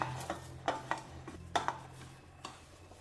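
Carrot vada mixture worked and mixed by hand in a bowl, with soft scattered taps and squelchy knocks at an uneven pace, close and fairly quiet over a faint hum.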